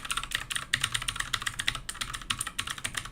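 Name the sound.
typing on an ASMR computer keyboard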